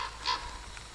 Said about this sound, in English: Right there's a bird.